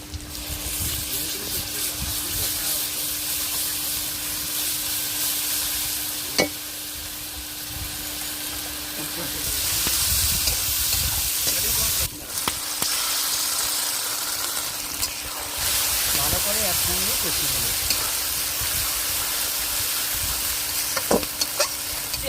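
Chopped onions and garlic paste fry in a pan with a dense, continuous sizzle and occasional stirring scrapes, holding loud and steady throughout with no speech.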